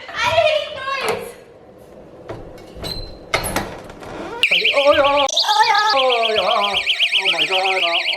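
A small self-defense door alarm wedged against a door goes off when the door is pushed open, giving a loud, sustained electronic warbling siren after a stretch of people talking and some rustling.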